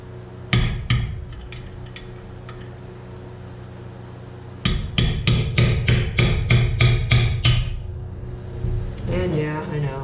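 Hard metallic strikes from a chainsaw scrench hitting a McCulloch 1010 chainsaw during restoration: a short burst of blows, a pause, then a rapid run of about ten loud evenly spaced hits, with a voice starting near the end.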